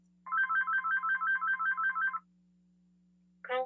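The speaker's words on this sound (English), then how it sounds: "There's somebody has a phone ringing." A phone rings with a warbling electronic ringtone during an online meeting, repeating in quick regular pulses for about two seconds, then a brief burst of another tone after a pause, all over a steady low hum, with no talking.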